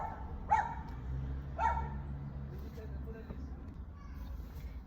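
Dog barking twice, sharp single barks about a second apart and somewhat distant, over a constant low hum with a voice faintly in the background.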